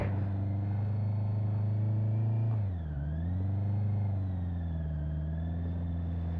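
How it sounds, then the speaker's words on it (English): A motorcycle engine hums steadily at raised revs with the clutch at the bite point, then dips and labors briefly as the brake drags, before settling back to a strained, even drone. "raising the revs, hold it on the bite point, now drag the brake"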